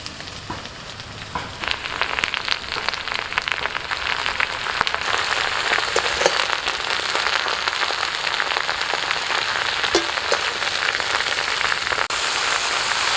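Pumpkin leaves go into a pan of potatoes and stems frying in oil, setting off a dense, steady sizzle that rises after the first second and keeps crackling with no voices.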